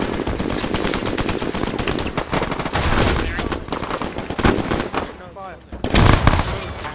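Heavy gunfire in a military game set in Belorussia, rapid machine-gun bursts and overlapping shots near and far, with voices speaking amid the shooting.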